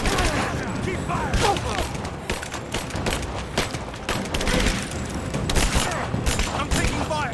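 Dense, continuous gunfire in the video game Rise of the Tomb Raider, a steady rattle of overlapping shots and booms with no clear pauses, loud and close throughout.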